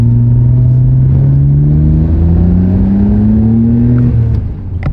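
A stock Nissan Skyline GT-R accelerates on the road, its engine rumbling loud and close from inside the car, the pitch climbing steadily through a gear before dipping, with no talking.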